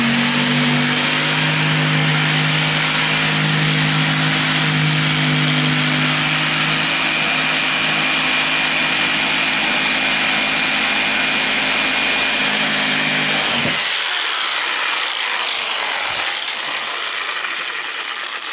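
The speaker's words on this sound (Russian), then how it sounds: "И не спеша лобзиком вырезаем." Electric jigsaw cutting a facade decor piece for an exterior house wall, a loud steady buzzing drone that runs close and continuous for about fourteen seconds, then stops, leaving a quieter background.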